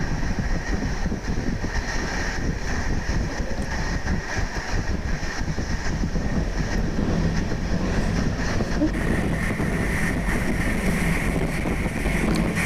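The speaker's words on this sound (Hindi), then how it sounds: "ट्रेन कुछ स्पीड से अब चल रही है" A train moving at moderate speed along the tracks past mango orchards near Malihabad, India, giving a steady, continuous rumble and rattle with wind noise, loud and constant throughout with no talk.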